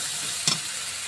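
Spices with turmeric powder and salt fry in hot oil in a pan for a fish roe curry under a low constant sizzle, broken by one short scraping stir halfway through.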